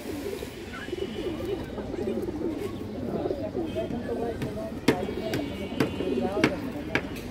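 Domestic pigeons, including a Giya Muslodom hen, coo in soft repeated rolling phrases close by, under ongoing talk, with a few sharp knocks or taps partway through.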